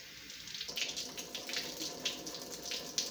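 Tap water runs steadily over a batch of alfalfa sprouts during a quick rinse, a close, continuous splashing hiss with small surges, no voices.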